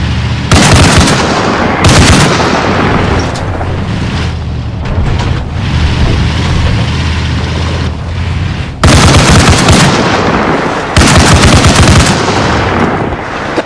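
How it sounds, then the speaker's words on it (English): Vehicle-mounted .50 calibre machine gun firing in the video game ARMA Reforger, loud heavy bursts in several separate volleys close by over a constant rumble of battle, with no talking. "Open fire with the 50."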